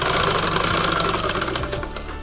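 A sewing machine runs steadily while stitching a boat neck chudidar, a loud, continuous rapid whirring chatter with a slight slowdown near the end, with no voices.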